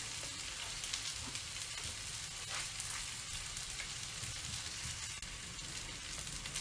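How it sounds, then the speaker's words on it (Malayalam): Garlic fries in hot oil beside sardines being cooked, giving a steady, even sizzle that stays constant and fairly quiet with no talking. "പിന്നെ ഒരു 2 വെളുത്തുള്ളി ഞാൻ വറക്കുന്നതിനകത്ത് ഇട്ട് കൊടുക്കുന്നുണ്ട് ഒരു സൈഡിൽ"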